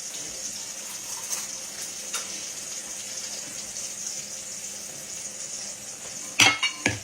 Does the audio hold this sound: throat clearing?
no